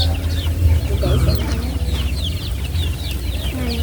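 Chickens cluck and chatter nearby against a low steady hum, with a few short calls overlapping.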